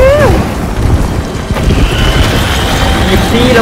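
An explosion in the Death Stranding video game gives a deep, rumbling boom that settles into a sustained low roar, with tonal game sounds over it.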